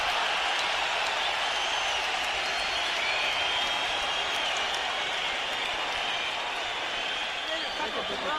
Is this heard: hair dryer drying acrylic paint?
no